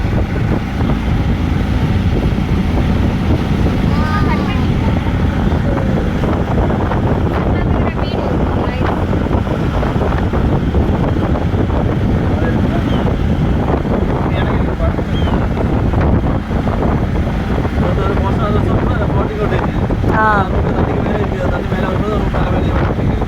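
Kerala houseboat moving on the water: a steady, loud rumble of engine and rushing water, buffeted by wind on the microphone, with voices talking over it throughout.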